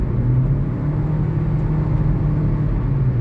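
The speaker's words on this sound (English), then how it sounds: "Alright, I'm gonna give it a little more gas." A Kia car with a P0867 transmission fluid pressure fault and the AC running, its engine given more gas, a steady low rumble and whir at moderate level with no speech.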